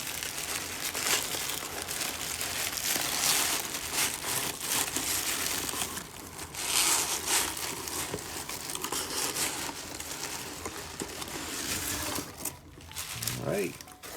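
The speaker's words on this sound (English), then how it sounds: "a lot of packaging material. Let's get this off." Packaging being pulled off a Tag Heuer Monaco watch box, a run of continuous crinkling and rustling with several tearing bursts, close to the mic.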